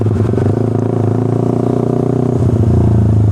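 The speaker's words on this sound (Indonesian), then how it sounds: "gue tes di RPM yang rendah dan pelan gue naik motornya" A Suzuki Satria F150 injection motorcycle with a racing exhaust burbles close by at low, steady RPM while being ridden slowly, giving a continuous throbbing engine note.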